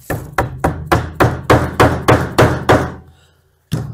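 A hand strikes a Conestoga wood cabinet panel repeatedly to knock it into place, about nine sharp, evenly spaced thwacks in quick rhythm, then a brief pause before one more hit, loud and close.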